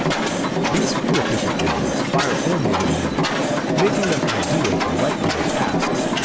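An old diesel engine built for light work such as water pumping runs steadily, its mechanical chugging loud and continuous throughout, with voices talking over it.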